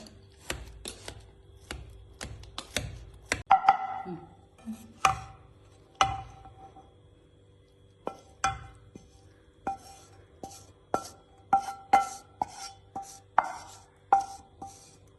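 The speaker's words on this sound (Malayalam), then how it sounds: "നല്ലപോലെ സ്മാഷ് ആക്കിയിട്ട് എടുക്കണം ബട്ടട്ടനെ." Boiled potatoes are mashed for masala puri, and a utensil strikes a bowl or pan repeatedly in irregular sharp knocks and clinks at close range, with short pauses between bursts.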